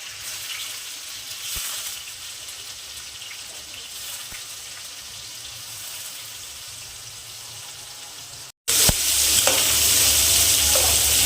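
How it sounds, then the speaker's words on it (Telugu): Vegetables fry in hot oil with a continuous close crackling sizzle. After a brief cut the sizzle returns louder and brighter, with occasional stirring taps and no talk. "ఆయిల్ హీట్ అయింది కదా ఈ ఫ్రై చేసుకుందాం"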